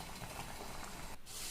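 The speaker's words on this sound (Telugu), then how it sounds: "బాగా ఉడుకుతుంది." Salted rice boils hard in a pot for raw jackfruit biryani, giving a steady, close, bubbling hiss with no talk.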